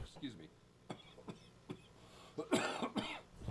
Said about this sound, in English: I'm coughing there.